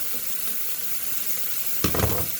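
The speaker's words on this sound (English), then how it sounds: "you won't be able to see the whole pan that I'm frying in" Food sizzles steadily in a hot pan, with a brief louder burst of crackling and a stir near the end.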